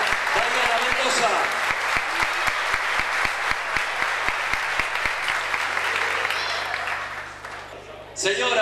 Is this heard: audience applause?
yes